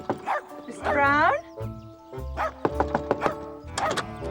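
A dog barking and yipping at night, heard in a short burst of whimpering yelps and barks, with some speech-like sound mixed in and a thump among the calls.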